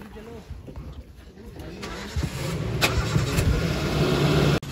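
A car engine starts and runs at a forest wildlife spot where people wait for a tiger, a steady mid-pitched engine hum building in loudness, with people talking over it.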